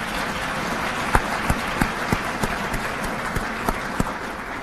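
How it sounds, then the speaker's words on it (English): Scattered applause from a small audience at a university meet-and-greet, faint and thin, with a few distinct individual claps standing out in an uneven rhythm over a steady background wash. "That deserves a round of applause."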